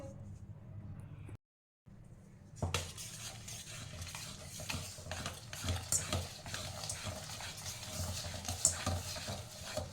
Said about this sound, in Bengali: এবার এই মিশ্রণটাকে ভালো করে মিশিয়ে নিতে হবে।